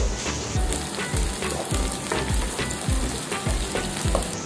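Dried red chilies frying with sautéed onions in oil for Chinthamani chicken, a loud, dense, continuous sizzle with regular low scraping strokes from the spatula, close and with no voices.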